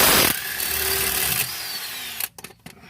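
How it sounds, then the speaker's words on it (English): An impact gun spins off an 18mm caliper bracket bolt from a steering knuckle, a loud close burst of whirring rattle for about two seconds, then clinks and brief handling noises. "So there are two 18mm bolts that hold the caliper bracket into the knuckle. We're going to remove these with an impact gun."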